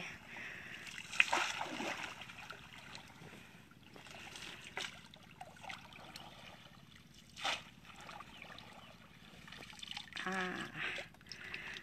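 Water splashes and trickles as a scoop stirs through a shallow, grassy pond while hunting leeches, with uneven sloshing bursts spread across the stretch and a louder splash near the start.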